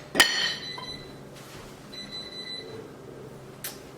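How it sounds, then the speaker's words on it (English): A kitchen timer goes off in a home kitchen during egg noodle making, giving a sharp ringing chime followed by fainter repeated beeps against quiet room sound. "Oh, my timer's going off."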